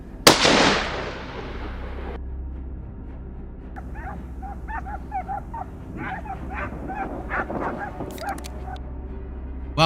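Hunting dogs bark in short, repeated yelps during a wild boar hunt in a swamp, following a loud bang at the start and continuing amid steady background noise.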